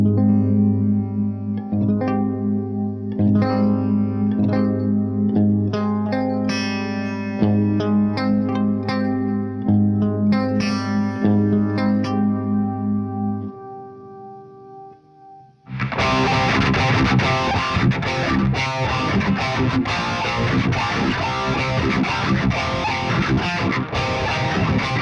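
Electric guitar played through homemade PCB pickups with software EQ, a clean melodic line of ringing notes for about thirteen seconds, a brief fade, then a loud, dense, harsh distorted section to the end, with no talk.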